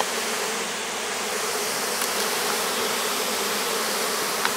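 Dense, loud, steady buzzing of many honeybees swarming close around an open hive being worked with smoke, continuous throughout.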